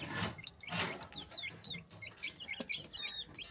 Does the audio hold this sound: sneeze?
no